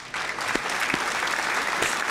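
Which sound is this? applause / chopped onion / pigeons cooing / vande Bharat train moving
applause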